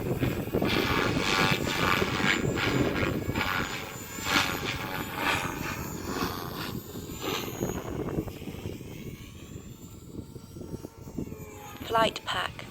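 An RC helicopter flies stunt manoeuvres in strong wind of about 5 m/s, its rotor and motor whine rising and falling continuously, with wind noise throughout and a voice talking over it.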